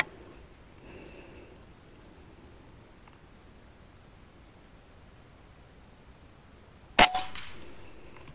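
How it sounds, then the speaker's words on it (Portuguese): A single loud report from a high-power air rifle with an FX Liner barrel, during a precision test, snaps out after several seconds of near silence, followed by a brief fading tail and faint ambient hiss. "Segundo disparo."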